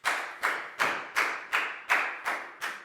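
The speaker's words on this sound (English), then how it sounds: "High five and a big round of applause for Net" A primary classroom of pupils claps for a classmate in a steady, unison rhythm, eight sharp, even claps about a third of a second apart, close and clear with no talking.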